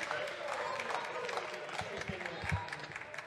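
Applause fills a chamber of the French National Assembly, a steady dense patter of many hands mixed with crowd murmur and voices, continuous and fairly loud throughout.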